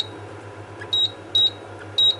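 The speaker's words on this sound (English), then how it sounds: "I'm setting the timer again" A cooking timer being set gives three short, sharp electronic beeps at a steady pace over a quiet background hum.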